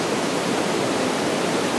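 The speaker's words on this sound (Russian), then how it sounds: "находимся мы теперь на молочном водопаде" The Milky Waterfall in Abkhazia roars as a steady, dense, loud rush of falling water, with no voices over it.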